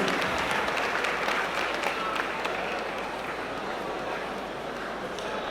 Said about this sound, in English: a round of applause for our brilliant 11-year-old artist for putting this together in 2 hours